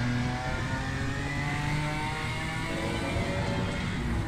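A BMW M4 GT4 race car engine revs hard and continuously in Assetto Corsa Competizione at Barcelona, a loud, steady mid-pitched drone pulling through the gears with no talk over it.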